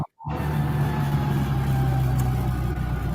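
A 1965 Morris Cooper S with a 1275 engine idles after a brief silent moment, giving a steady, even rumble that stays loud and constant to the end.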